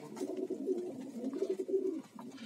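Pigeons cooing softly during a morning feeding at a dovecote, low throaty rolling calls overlapping in a quiet, continuous murmur.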